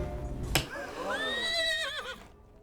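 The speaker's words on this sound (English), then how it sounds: "A flying horse! That's his brother." A horse, presented as a flying horse, gives one long wavering whinny that rises and falls in pitch, preceded by a sharp percussive hit, heard clearly over a low background hum.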